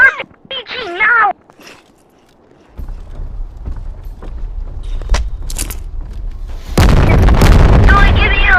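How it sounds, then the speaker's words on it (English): An RPG rocket launcher fires and its rocket explodes in the video game Animal Company, with a rumbling buildup giving way to a loud, sustained broadband blast near the end, after a voice speaks at the start. "shoot the RPG now!"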